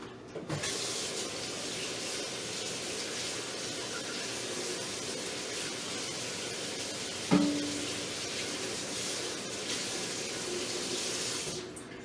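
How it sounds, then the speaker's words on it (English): A sink faucet runs steadily over a plastic Hulk action figure, making a continuous close splashing rush with one brief knock partway through, and no voices. "So I'm actually just going to take this over and put it right in the faucet."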